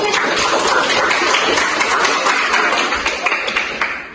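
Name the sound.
class applause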